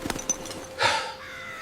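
A crow caws once as a sound effect in a narrated story, preceded by a few faint ticks: a single short, harsh, moderately loud call that trails off into quiet.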